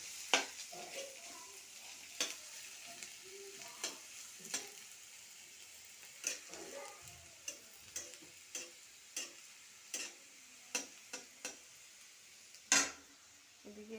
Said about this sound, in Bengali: দেখুন পেঁয়াজ আলু ভাজা হচ্ছে